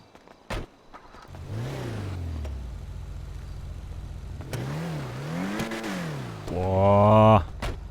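An Übermacht Zion Classic car in GTA roleplay revs repeatedly, rising and falling engine surges with a final hard high-pitched rev, loud and close, with someone talking over it.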